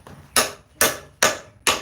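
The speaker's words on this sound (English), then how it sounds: "He's got that old piece of metal locked up in the vise, whacking it with the hammer." A hammer strikes an old piece of metal clamped in a vise in a forge, four sharp, loud metallic whacks at a steady rhythm, each ringing briefly before the next blow.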